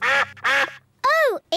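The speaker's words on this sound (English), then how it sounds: "it's the ducks" Cartoon ducks quack in a garden, three loud nasal quacks close by. The first two come in quick succession and the third is longer, with a clipped start of another at the end.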